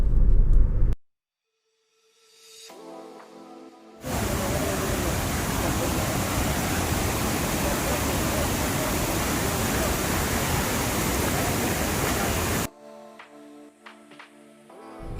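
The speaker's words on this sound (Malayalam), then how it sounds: "നമ്മൾ ആ കാണുന്നതാണ് കാപ്പിമല വെള്ളച്ചാട്ടം." Kappimala waterfall in Kerala roars as a loud, steady broadband rush for several seconds, bracketed by quieter outdoor moments and brief voices before and after.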